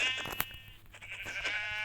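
Sheep bleating in Minecraft as it is attacked and killed, a few short nasal game bleats with harmonic tone, fairly loud and close, no talking.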